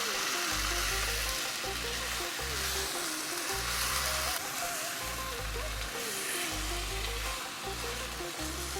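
Aviyal curry with curd being stirred in a pan for an Onam sadya, a continuous soft sizzle with a low bubbling hum and intermittent rhythmic scraping.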